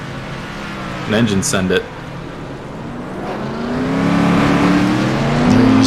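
Race car engines in a PC superspeedway racing game, a sustained revving whine climbing in pitch, heard under a commentator's voice.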